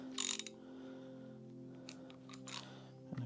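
Socket ratchet clicking on a RockShox Lyrik Ultimate fork of a Commencal Meta mountain bike: a few short crisp ratcheting bursts near the start and again later over a steady low mechanical hum, close and fairly quiet.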